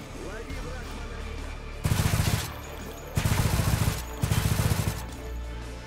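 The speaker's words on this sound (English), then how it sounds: "This creates a very realistic effect whenever you're firing your guns." Three loud bursts of rapid automatic gunfire in modded Stalker Anomaly, each lasting about a second, separated by quieter stretches with a voice speaking.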